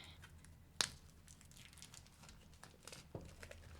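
A knife cuts through thick, hefty cardboard with one sharp crackling snap, then soft scraping and crinkling and a second fainter crack, all quiet and close.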